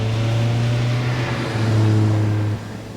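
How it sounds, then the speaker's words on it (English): Mazda MX5 sports car on winter tires driving a nasty snowy road, its engine a steady close drone that shifts pitch slightly as it holds revs, then drops off near the end. "Starting off on a nasty winter road in the MX5."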